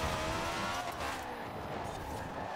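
A Citroen 2CV car cornering on tarmac, its engine droning steadily at close range with a continuous broadband roar and possible tire noise, without a break.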